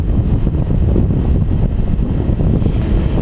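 Dense, steady roar of wind buffeting a rider on a moving motorcycle, loud and close, filling the whole stretch with no voices.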